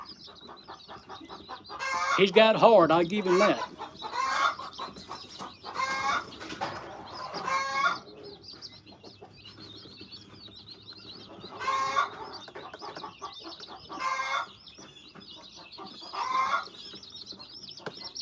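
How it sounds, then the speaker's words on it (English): Small black rooster clucking and squawking in a run of short, close bursts, with other fowl calling intermittently; a voice speaks briefly between the calls. "He's the smallest rooster, and poor thing, he will pick a fight with anybody."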